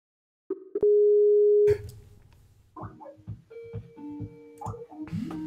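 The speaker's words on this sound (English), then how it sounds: "We can hear his phone ringing" Skype call ringing tone: a steady electronic tone, then a series of shorter repeated beeps at shifting pitches, fairly loud and clear with no talking over it.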